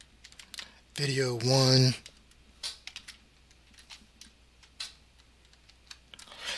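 Keys clatter on a computer keyboard in quick irregular bursts of light clicks, with a short stretch of speech interrupting the typing near the start.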